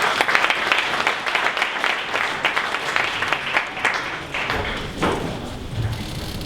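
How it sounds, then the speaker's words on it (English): Audience applause at a 1 Million Cups startup pitch event in Dallas, a dense, steady clapping from a sizable crowd that fills the room, then thins slightly near the end with a few louder individual claps. "one more round of applause for 10K Small Business Group"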